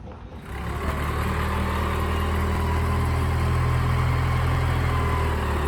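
A truck engine runs in a steady, loud, low rumble while pulling a gooseneck trailer up to a shop, holding an even idle-like drone throughout with no voices.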